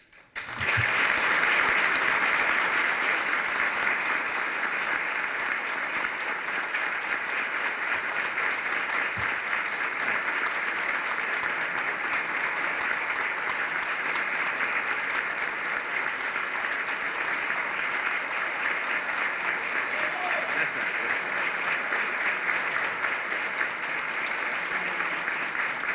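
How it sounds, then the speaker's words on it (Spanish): Steady, loud audience applause fills a hall after a speech at a public talk, sustained without a break for nearly half a minute with a dense, even patter of many hands. "El aplauso es para todos."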